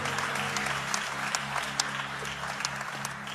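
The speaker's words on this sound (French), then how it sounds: "Give the Lord a big hand." A church congregation claps and applauds for the Lord, steady dense applause from a crowd close by, with a faint voice underneath.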